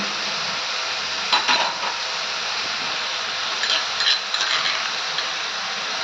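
Onions frying with garlic and ginger paste in a pan, a continuous soft sizzle with a few clinks and scrapes of a utensil against the pan.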